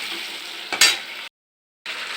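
Poultry chicken dish being started, a little oil sizzling and frying in a pan close up, with a sharp stirring scrape midway, a brief gap of silence, then the steady sizzle resuming.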